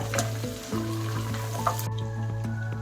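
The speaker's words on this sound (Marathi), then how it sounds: "हे खेकडे मस्त मिक्स करून घेऊया आपण या फोडणीमध्ये" Crabs are stirred through hot spiced tempering (phodni) for an Agri crab masala, sizzling steadily at close range with occasional spoon scrapes and clinks, without any talking.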